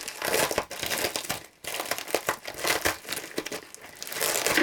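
Crinkly plastic packaging and tape rustle and tear in quick, uneven bursts, up close, with a brief pause before the crumpling continues.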